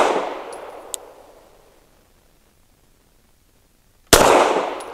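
Two loud, sharp pistol shots from an EAA Girsan Witness 2311 firing 140-grain subsonic rounds: the first opens the clip and rings down over a second or two, and after near silence the second cracks hard near the end.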